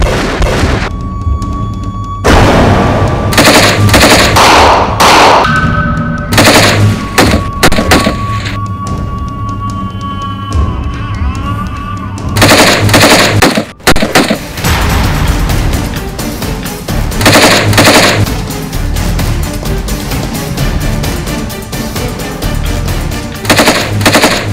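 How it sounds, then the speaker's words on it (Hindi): Heavy gunfire fired indiscriminately from the mountains during a clash between Sindh Rangers and terrorists, with loud bursts and rapid automatic volleys repeating throughout, some shots close and booming, others echoing farther off. "मुख्तलिफ पहाड़ों की जानिब से अंधाधुंध फायरिंग का सिलसिला शुरू हो गया।"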